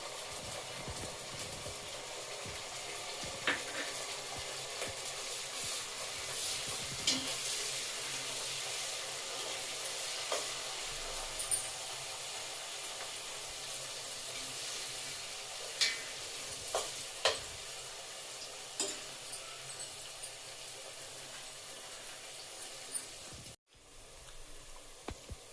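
Ground spices stirring and frying in peanut oil with turmeric and green chillies for an amla pickle, a soft continuous sizzle with scattered scraping clicks of the spoon against the pan, fairly quiet and steady throughout.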